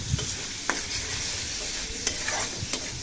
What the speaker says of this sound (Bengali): শুটকি সুন্দর মতো আমি কষাই নিলাম।